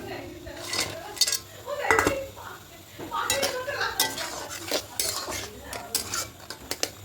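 Besan fritters being stirred into a simmering sour curry in a metal pot, with repeated scraping clinks of a spoon against the pot in an irregular rhythm, close and fairly loud.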